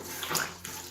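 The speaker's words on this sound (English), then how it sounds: "here I'm dipping my cloth into the water" A cloth dipped into a bucket of water, giving a short close splash and slosh of liquid lasting under a second, with no talking.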